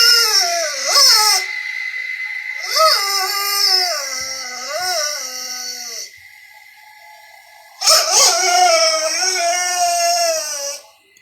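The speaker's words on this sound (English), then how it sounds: "He's seen in the video staring at something and whining for several minutes." A dog whines and howls in long, wavering high-pitched cries, loud and close, coming in several drawn-out bursts separated by short pauses.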